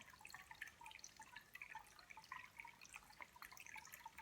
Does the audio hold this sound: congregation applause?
no